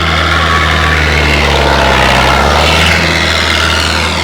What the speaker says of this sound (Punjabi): ਗੂੰਜ ਪਾਉਂਦਾ ਇੰਜਨ ਦਾ ਪੂਰਾ ਜਿਵੇਂ ਵੀ ਚੱਲਦੀ ਹੁੰਦੀ ਹੈਗੀ ਬਹੁਤ ਘੈਂਟ ਆਵਾਜ਼ ਆ ਟਰੈਕਟਰ ਦੀ